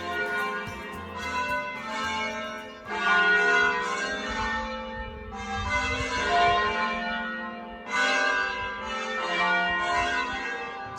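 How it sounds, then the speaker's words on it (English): Church bells ring from a spire in Italy, peals of resonant tones swelling in several waves with pauses between, a full melodic ringing heard alone. "that lovely melody sound of the church bells ringing all day long"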